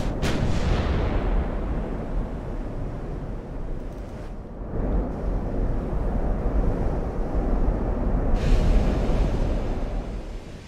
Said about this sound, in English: Let's see if we can turn just a hair and get all of my guns firing.